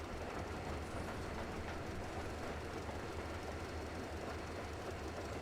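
A train in the video game Metro Exodus rolls along steadily with a continuous rumble and faint rhythmic clatter, fairly quiet and uniform throughout with no voices.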